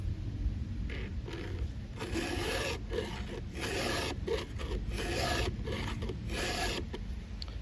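A round file rasps across the chain of a Stihl 500i chainsaw being sharpened in a small vise, a close, rhythmic series of short gritty strokes repeating back and forth.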